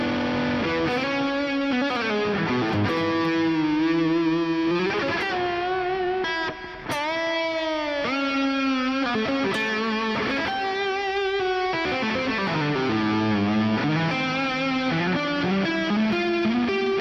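Ibanez 550 DX electric guitar through a distortion channel, playing sustained, heavily overdriven melodic lines with bends and slides, loud and continuous with no talking.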